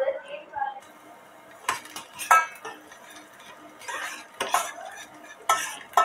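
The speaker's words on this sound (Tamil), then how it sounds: "இப்போ பூண்டு இதில் வதங்கிட்டுருக்கு." Finely chopped garlic sautéing in oil in a pan for a homemade Italian-style veg pizza sauce, with irregular close spoon clinks and scrapes over a faint sizzle.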